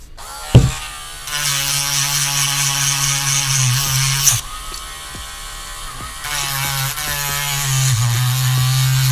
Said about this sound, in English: I'm gonna sand off a little bit of this one